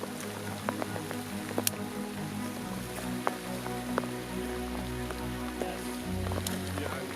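Rain pouring down in the Alaska wilderness, a steady hiss of rainfall with scattered sharp drops and drips striking nearby surfaces, fairly quiet and continuous, with no talk.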